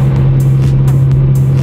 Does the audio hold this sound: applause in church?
no